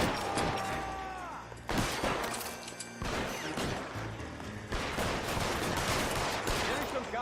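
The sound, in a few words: gunfire from enemies in video game L.A. Noire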